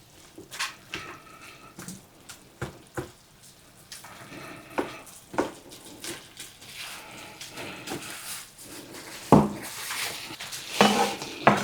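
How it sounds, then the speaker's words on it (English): A spoon scrapes and clatters against a skillet holding a cabbage roll mixture, giving irregular knocks and clinks over a soft sizzle, with a louder burst of stirring near the end. "I'm going to give this one good stir right quick"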